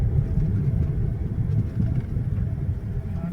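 A car's engine rumbles low and steady close by as it is parked near a forest rest house in the Gautala sanctuary area, with no talk.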